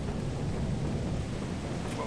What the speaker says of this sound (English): Oh, I fucking hate stormy weather.